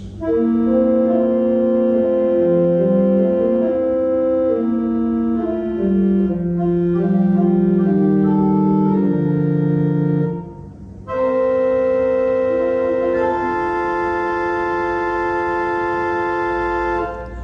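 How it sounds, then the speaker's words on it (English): A two-manual pipe organ plays sustained, full-bodied chords on its 8-foot open diapason stop, shifting slowly, with a brief pause before a brighter chord resumes, warm and resonant, no voices. "the very first stop on this organ is an 8 foot open diapason, which sounds like this"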